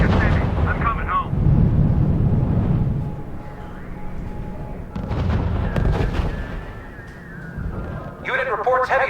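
Artillery fire in the R.U.S.E. video game during a Battle of the Bulge scenario: heavy booming blasts and rumbling impacts rise and fall, with voices speaking over the battle.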